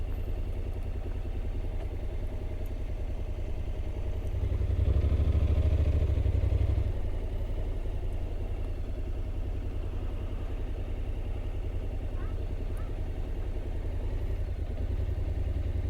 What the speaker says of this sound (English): I can talk a bit about the Honda NC that I'm driving